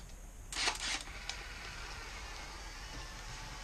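A shutter is pressed on a modified Fuji ACE instant camera in manual mode, giving one brief mechanical snap and whir, then only a steady quiet hiss.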